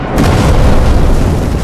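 A loud, close explosion bursts against a tank in Sniper Elite 4, a single heavy boom that swells into a sustained rumbling roar.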